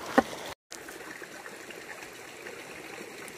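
Gold panning in Arizona: water swirls steadily around the pan in a continuous close-up wash, with a short break of silence near the start and no talking.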